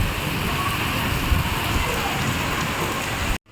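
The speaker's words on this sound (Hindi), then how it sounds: "बहुत ज़ोरों से बारिश पड़ रही है।" Heavy rain pours down steadily during a storm with a power cut, a dense, unbroken hiss of drops drumming on surfaces nearby, loud and even throughout before cutting off abruptly near the end.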